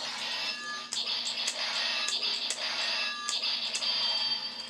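A loud, tinny electronic voice from a Kaiten Juuken ToQBlaster toy sword calls out "Kirimasu", with sharp synthetic slashing bursts popping over a steady buzzy tone.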